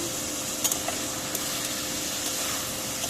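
Shajna (drumstick) curry fries in a pan with a steady, close sizzle and a few light stirring clicks scattered through it, with no voices.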